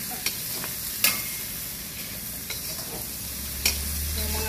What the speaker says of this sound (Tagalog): Ayan, bawang at sabay ko na yung kamatis. Sabayin ko na sa mag-browning.